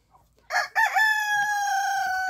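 A rooster crows loudly and close among hens at a country house chicken coop, one long, drawn-out call that begins sharply and holds steady to the end.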